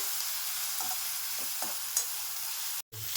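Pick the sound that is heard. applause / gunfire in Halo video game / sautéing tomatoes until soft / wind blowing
sautéing tomatoes until soft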